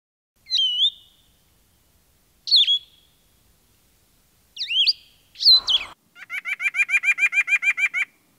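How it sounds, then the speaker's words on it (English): A bird sings clear, whistled phrases separated by pauses, then breaks into a fast, even trill of repeated chirps, close and loud against silence. "There was a lot of birds."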